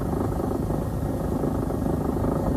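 A helicopter filming a cycling race gives a steady, loud, dense rotor and engine drone that never lets up, a continuous low rumble filling the whole stretch without pauses.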